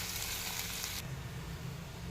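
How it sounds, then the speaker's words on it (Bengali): Small pieces of chopped onion fry in ghee with a soft, steady sizzle that stays even and fairly quiet throughout. "এবার ছোটো ছোটো কেটে একটা পেঁয়াজ দিয়ে দিলাম"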